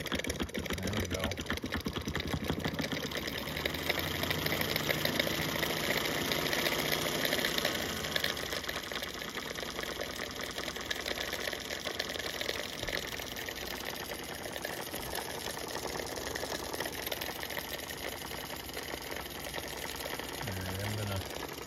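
A Jensen Model 55 toy steam engine runs steadily, giving a continuous fast mechanical chatter with a low rumble, close and fairly loud throughout.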